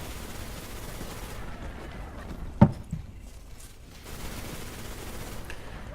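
A single sharp rifle shot rings out in a video game, close and punchy, from a rifle with no recoil control. A dull background hum runs before and after the shot.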